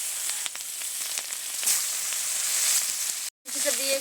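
Dried red chilies, five-spice seeds and chopped onion sizzle steadily in hot oil in a pan, a dense continuous crackle with small pops, cutting out briefly near the end before a faint voice and clinks return.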